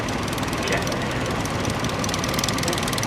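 A restored Nuffield tractor engine runs steadily in the display ring at the Great Dorset Steam Fair, a continuous rough mechanical drone throughout with a faint voice mixed in.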